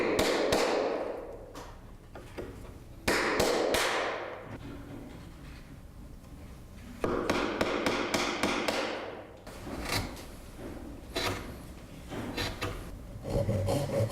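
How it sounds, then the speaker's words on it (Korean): Repeated sharp mallet strikes on a chisel cutting a mortise for a traditional Korean wood joint, in clustered bursts with pauses and scraping between, close and clear, no speech. "끌을 이용하여 암장부를"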